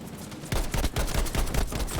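In the video game Battlefield V, a rapid burst of gunfire starts after a brief quiet moment and continues as dense, loud, overlapping shots until the end.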